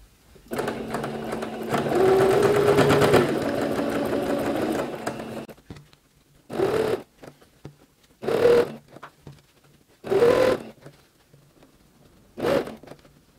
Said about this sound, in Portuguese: Então, já fiz a costura, prendendo o bolso.